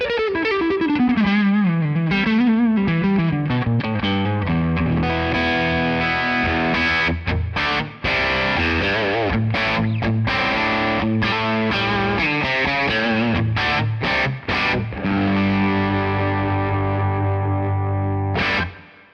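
Electric guitar with a single-coil neck pickup on a Tele-style Suhr Classic T, played through Tonex amp tones with chorus-like effects and some drive. It plays a continuous melodic line of sustained, gliding notes and chords, loud and upfront with no voices.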